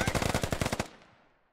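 A rapid burst of automatic gunfire from a firefight in the military shooter game Squad, about a dozen loud, evenly spaced shots in under a second, then a fading tail.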